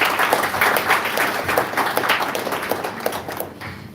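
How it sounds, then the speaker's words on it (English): A round of applause from an audience at a devotional talk, a moderate crowd clapping with distinct individual claps, steady and close, with no talk over it. "So let's give Prabhu another huge round of applause."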